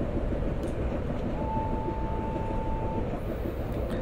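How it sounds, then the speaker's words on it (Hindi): Kamayani Express coasting with the throttle closed on the Western Central Railway route in Train Simulator Classic, a constant low rolling rumble with a thin steady tone lasting a second or two midway, no voices. "गाड़ी देखो कुछ ज़्यादा ही स्लो हो गई क्योंकि मैं थ्रॉटल नहीं दे रहा हूँ बिल्कुल भी"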